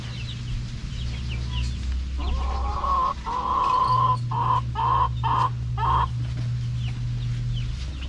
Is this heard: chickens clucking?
yes